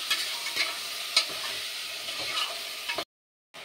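Marinated chicken for biryani stirred in a hot pot, with a steady broadband sizzle and several scraping clacks of a spoon against metal, close and alone, cutting off into a brief silence near the end.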